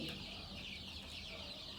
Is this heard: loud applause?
no